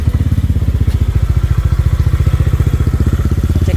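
Honda Click 125 scooter bored out to 160cc, its engine running with a steady, rapid exhaust pulse close by, loud and even throughout with no talk.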